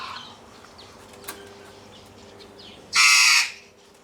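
Galah cockatoo on the coast at Yzerfontein, Western Cape, South Africa, giving a single loud harsh screech after quiet moments with faint rustling and a brief click.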